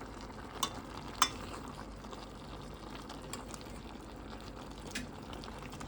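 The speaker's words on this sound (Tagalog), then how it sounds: "Ang hirap haluin kasi maliit yung kaserola." A spoon stirs pinakbet vegetables with fish and shrimp paste in a small cooking pot, a soft continuous scraping and bubbling with a couple of sharp clinks against the pot.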